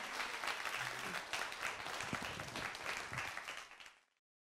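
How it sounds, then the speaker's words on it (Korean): An audience applauds at the end of a lecture, dense steady clapping from many people that holds for several seconds and then fades out abruptly to silence. "지루했다라고 생각하지 않는 분만 박수 치면서 마치도록 하겠습니다."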